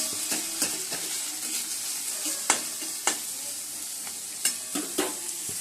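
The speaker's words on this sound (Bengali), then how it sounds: "বিনস, গাজর, পেঁয়াজ ভাজতে দিয়ে দিয়েছি।" Beans, carrot and onion frying in a pan sizzle steadily while a utensil scrapes and knocks against the pan in irregular strokes, close and clear.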